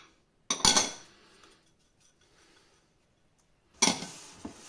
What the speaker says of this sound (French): on prend une casserole et on y met nos trois ingrédients